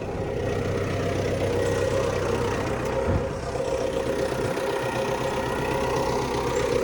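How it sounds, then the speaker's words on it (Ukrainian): An MTZ tractor engine runs steadily as the tractor drives itself on autopilot in a field, a continuous mid-to-low diesel drone with no speech, holding an even level throughout. "А трактор їде сам."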